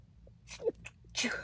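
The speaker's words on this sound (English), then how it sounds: "Oh, I'm gonna sneeze." A quiet person gives a brief gasp and then a single sharp sneeze, close and faint.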